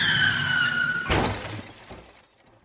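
A car crash effect: a screeching tire skid runs for about a second, then a sharp impact bursts into shattering glass that rattles and fades into quiet, loud and close with no talk.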